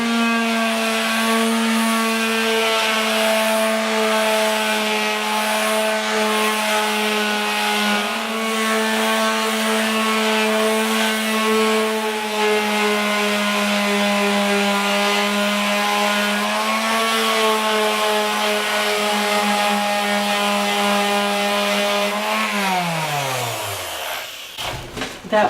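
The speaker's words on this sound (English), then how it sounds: "I need to take the varnish off of this door so that the paint will stick to the wood." A power tool runs at a steady, loud whine while stripping varnish from a wooden bathroom vanity door, then its motor spins down and stops near the end.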